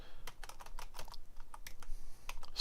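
Rapid typing on a computer keyboard, a close, quiet series of irregular key clicks in quick bursts with brief pauses, and no talking.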